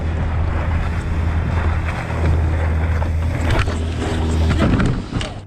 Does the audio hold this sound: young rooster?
no